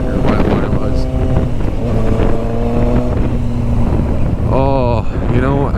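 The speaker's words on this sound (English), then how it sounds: "as crappy as this wind is, it's really nice" Strong wind after a big storm roars and buffets steadily across a ride outdoors, mixed with a droning motor and voices talking throughout.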